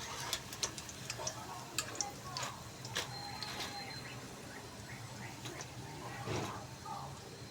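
Crispy fried potato pakoras give off sharp, irregular crisp clicks and crackles over a constant low hiss, heard close up with faint talk in the background.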